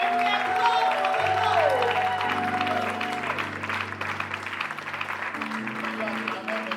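A church congregation at a convention breaks into sustained applause and cheering for the Lord, with a dense crowd clatter. Music plays and voices sound through it.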